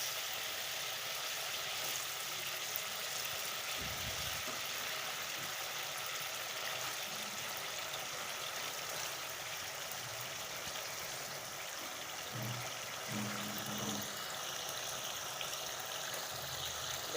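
A pot of curry broth for stuffed pointed gourd dolma, filled with shrimp, boils at a steady rolling bubble, a continuous watery rumble close by with a few soft knocks as the stuffed gourds go in.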